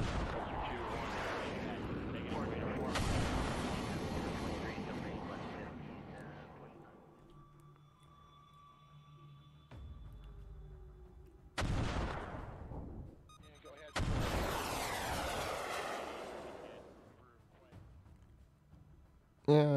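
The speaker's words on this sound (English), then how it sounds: "This is our Type 45 shooting Aster 30s." A Type 45 destroyer launches Aster 30 missiles in the naval simulation game Command: Modern Operations: several loud roaring whooshes start abruptly and fade, well spaced apart, with a voice talking over them.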